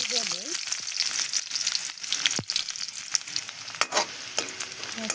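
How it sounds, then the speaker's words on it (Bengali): Onions frying in hot oil in a kadai, giving a dense crackling sizzle broken by clattering stirs and a few sharp scrapes, close and continuous, with a brief voice near the start. "পেঁয়াজটা ভাজা ভাজা হয়েছে"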